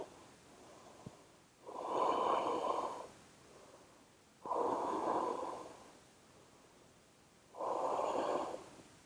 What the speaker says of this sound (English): See if you can breathe with this.